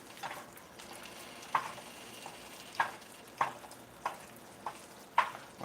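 Quiet steady sizzle of food frying in a pan for a nacho platter, punctuated by several sharp utensil scrapes and clinks as it is stirred at irregular intervals.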